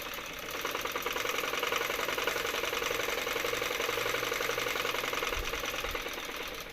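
A sewing machine stitching a blouse runs in one steady, continuous whir with a fast mechanical chatter, close and alone throughout.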